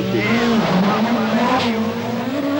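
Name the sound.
Lancia Delta S4 rally car engine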